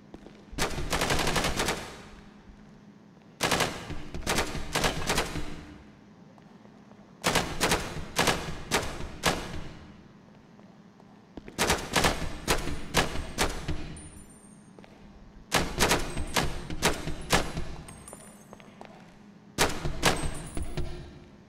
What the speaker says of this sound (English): you kind of shoot full auto on a couple of them